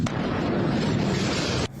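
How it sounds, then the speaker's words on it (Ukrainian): Powerful explosions from bombing of the Syrian port city of Tartus at night, a sustained deep roaring rumble of blasts that holds loud for over a second and a half, then cuts off. "Дуже потужні вибухи, світло як у день."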